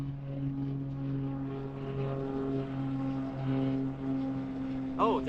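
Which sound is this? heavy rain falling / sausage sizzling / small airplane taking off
small airplane taking off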